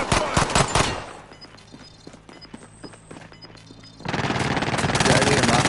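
Video game gunfire in a multiplayer shooter: sharp bursts of rapid shots at the start, scattered single cracks and distant pops in a quieter stretch, then a loud dense barrage of automatic fire.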